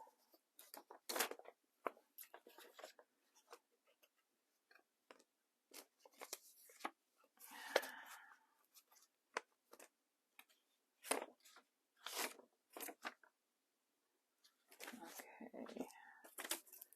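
Scissors cut out a piece of paper for a junk journal with quiet, close, irregular snips spread through the stretch, separated by pauses, with occasional soft murmured speech.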